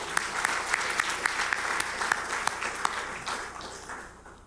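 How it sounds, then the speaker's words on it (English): Forum audience applauding the distinguished speakers at the One Korea International Forum, a full round of many hands with a few sharp nearby claps standing out, gradually fading toward the end. "let's give them another round of applause"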